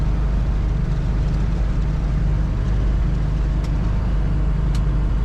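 A 1973 Ford Mustang Mach 1 cruising straight down the road, heard from inside as a steady, loud low engine drone with road rumble, continuous and unbroken throughout.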